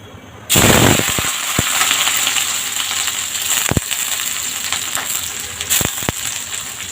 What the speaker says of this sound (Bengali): তেলের মধ্যে পেঁয়াজ দিয়ে নেবো